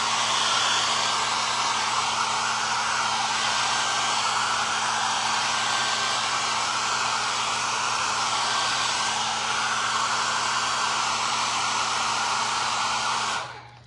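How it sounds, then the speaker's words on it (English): A hair dryer blows steadily and loudly, close by, drying paint in a home art studio, one continuous whirring blast with a faint hum beneath, cutting off at the very end. "let's just blast this right quick with the blow dryer real quick"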